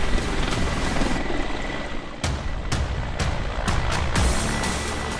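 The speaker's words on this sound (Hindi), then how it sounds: "अपाचे हेलीकॉप्टर एक बार में तकरीबन 3 घंटे तक उड़ान भरकर लगातार हमले करने में सक्षम है।" Apache combat helicopter in flight, a steady, loud rotor and engine roar that continues without a break, with a few sharp transient thumps near the end.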